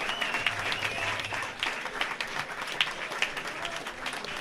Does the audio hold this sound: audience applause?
yes